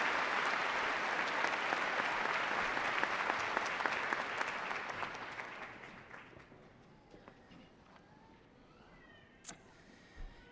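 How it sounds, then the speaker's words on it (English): A large crowd at a university commencement ceremony applauds loudly and steadily for several seconds after the national anthem, then the clapping fades out, leaving a quiet room with scattered small sounds. "Give her a round of applause."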